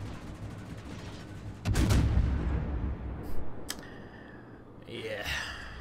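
Heavy naval gun salvo from a Henry IV cruiser in World of Warships, a loud low boom around the middle with trailing rumble and a shell whistle near the end, over steady game background.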